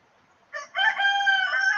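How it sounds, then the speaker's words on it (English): A rooster crows once in the background, a clear, fairly loud call that starts with a short rising note and then holds a long sustained tone. No one is talking. "don't mind the rooster in the background"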